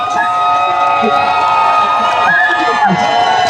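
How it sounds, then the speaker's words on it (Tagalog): A crowd of protesters shouting during a rally at the Senate, a steady mass of voices with a few individual cries rising above the din, loud and continuous. "5 minutong sigawan po."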